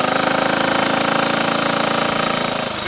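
Triumph Tiger Cub trials motorcycle engine idling after distributor adjustment, a loud, close, steady rapid single-cylinder tick-over with a faint slowing near the end, no talking.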